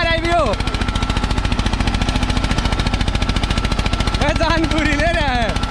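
An Eicher 241 tractor works in first gear in a field, seeming to lack pulling power, its engine giving a loud, fast, even thumping chug right up close, with a voice briefly over it.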